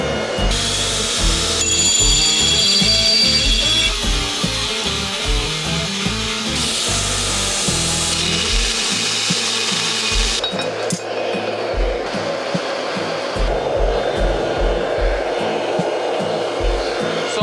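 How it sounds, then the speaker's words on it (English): Grinder working a forged steel battle axe head of over six pounds, a loud, harsh continuous whine and rasp with rhythmic low thumps underneath, close and sustained, changing in character partway through as the contact shifts. "We need to do some grinding."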